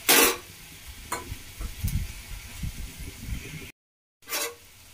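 A spoon stirs karmatta bhaji with freshly added chopped tomatoes in a hot frying pan. Steady sizzling runs under repeated scraping strokes, near and fairly loud, with a brief gap before the stirring resumes.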